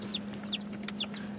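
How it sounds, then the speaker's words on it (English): Baby chicks in a box cheep repeatedly with short high peeping calls, faint and close, over a steady low hum from a moving vehicle. "We got lots of little cheep cheep cheeps going on in the box back there."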